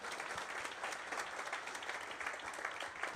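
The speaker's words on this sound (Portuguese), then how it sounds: "Palmas para Kleber Machado" Steady applause from an audience at a football discussion event, a dense, even wash of clapping held at a fairly low, distant level throughout.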